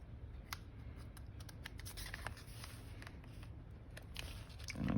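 Scissors trimming coffee-dyed paper for a handmade journal, a run of crisp close snips and paper rustles spread unevenly across a quiet room.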